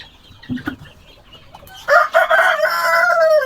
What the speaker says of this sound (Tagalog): Ito yung isa kong manok na malaki